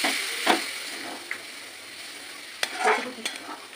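Water poured into a frying spiced masala gravy in a pan, a hissing sizzle with a few sharp bursts and stirring scrapes, close and moderately loud with no talk.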